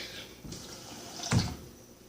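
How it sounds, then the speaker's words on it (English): Water poured into a cooking pot of beans in a home kitchen, a soft brief splash and trickle, close but quiet against faint room noise. "Add a little bit of water."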